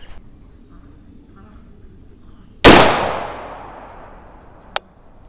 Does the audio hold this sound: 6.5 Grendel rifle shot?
yes